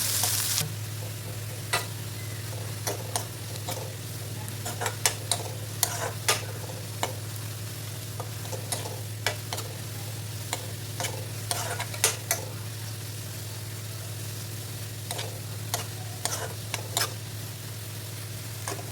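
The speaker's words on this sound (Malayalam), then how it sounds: "ചോറാവുന്ന സമയം കൊണ്ട് നമുക്ക് അതിലേക്ക് ആവശ്യമുള്ള ഉള്ളി വറക്കാം" Steady sizzling of onions frying in a pan for biryani, with a constant low hum and frequent sharp clicks and scrapes of stirring throughout.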